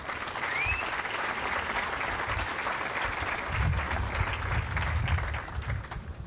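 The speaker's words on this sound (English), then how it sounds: "Would you please give them a round of applause?" A crowd at a new stadium groundbreaking gives a sustained round of applause, dense outdoor clapping that swells slightly midway and holds steady for several seconds.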